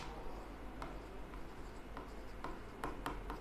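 Writing on a board in a classroom, faint scratchy strokes and light taps in an irregular sequence over a steady low room hum, no voices.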